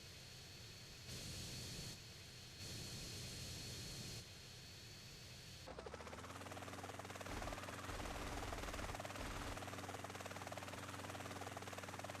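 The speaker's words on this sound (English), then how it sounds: "The Sea Sparrow." Sea Sparrow helicopter in GTA San Andreas Definitive Edition: after a few seconds of blocky ambient game noise, a loud, steady rotor and engine roar sets in and holds to the end.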